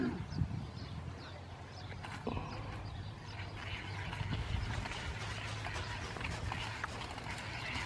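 Small motorized moped engine running steadily nearby, a continuous low droning hum with mechanical rattle, alongside background street noise and clopping sounds.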